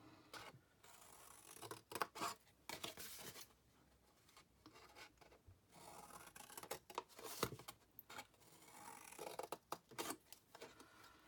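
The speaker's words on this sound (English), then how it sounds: "you can just cut straight up each of the score lines and then take the corners off" Scissors snip along the score lines of craft card in a quiet series of separate cuts and rustles, close by and uneven in rhythm.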